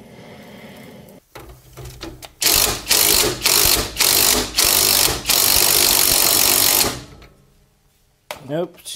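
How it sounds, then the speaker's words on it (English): An impact wrench hammers in several loud, rapid bursts on a suspension nut of a 1999 Toyota Camry, the nut just spinning in place, with mechanical clatter before and after. "And then maybe hit it with an impact."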